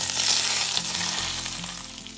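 Hot garlic-darkened oil tossed over onions in a home kitchen pan, giving a loud, continuous sizzle and crackle that slowly eases off over a couple of seconds, with no talking.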